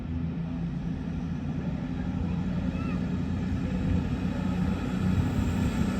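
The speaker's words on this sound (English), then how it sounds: "Now departing is the 1544 cross-country service from Edinburgh to Plymouth" A CrossCountry Voyager train, a double pairing of units on the Edinburgh to Plymouth service, pulling out of York station: a steady, loud engine drone and rumble holding evenly throughout without breaks, close by.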